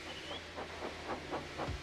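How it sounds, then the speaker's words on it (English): A steam locomotive chuffing in a quick, regular rhythm of soft puffs over a constant low hiss of steam, faint and brief. "So they lit his fire, made lots of steam, and Edward puffed away."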